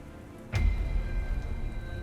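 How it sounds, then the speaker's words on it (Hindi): A heavy storm-rain sound effect swells in suddenly and holds as a dense, steady roar of pouring rain with a deep low rumble underneath, loud and with no voices. "तीक्ष्ण वर्षा जलप्रपात की भांति गर्जना करते हुए सोने की लंका के महलों के मीनारों से टकरा रही है"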